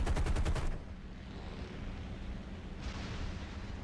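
Short burst of rapid aircraft machine-gun fire from a P-47 Thunderbolt in War Thunder's simulator air battles, loud and rattling for under a second, followed by steady engine drone with no talking.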